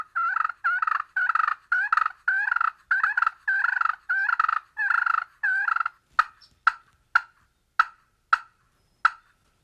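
A run of rapid, raspy aggressive turkey purrs on a slate friction call, each burst rolling and evenly spaced, then a series of short sharp clucks, clear and close with no talking.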